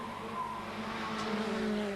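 Sports 2000 race cars charge into Westfield corner during a 1987 championship race, engines droning steadily with shifting tonal whines and a faint tyre squeal, continuous and fairly close.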